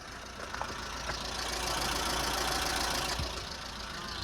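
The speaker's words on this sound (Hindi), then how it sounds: "एक बार इसकी इंजन नॉइस और दिखा देता हूँ आपको, कितनी क्या कुछ ये नॉइस करती है गाड़ी।" A 2008 sedan's engine runs in a steady, moderately loud hum with a faint mechanical rattle, swelling slightly in the middle before settling back.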